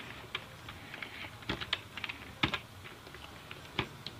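Typing on a computer keyboard while entering a program, soft scattered keystrokes in uneven bursts, close and fairly quiet, with no voices.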